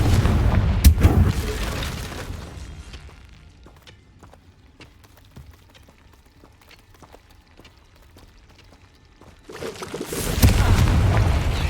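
Confringo blasting spells exploding in Hogwarts Legacy, with loud booming bursts at the start and again near the end and sparse crackling in a quieter stretch between.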